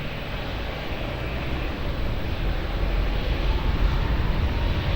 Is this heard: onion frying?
no